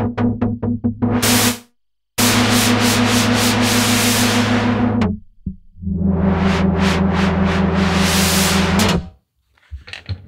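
Noise generator of an analog polyphonic synthesizer playing loud bursts of hissing white noise over a steady low tone, rhythmic short pulses then long sustained swells cut by abrupt silences, with no talk.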